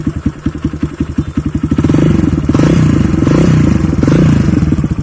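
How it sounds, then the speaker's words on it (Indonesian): A Kawasaki D Tracker 150 single-cylinder supermoto fitted with a racing exhaust thumps at a loud, rhythmic idle, then is revved up into a sustained deep, bassy roar close to the microphone. "Teman-teman bisa lihat ya karakter suaranya setelah dikasih knalpot racing adem banget gitu."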